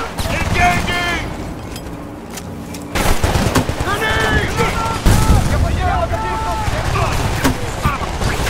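Gunfire in Battlefield: Bad Company 2 with loud, sustained automatic bursts and heavy blasts, mixed with radio-style voices and whining in-game sounds throughout.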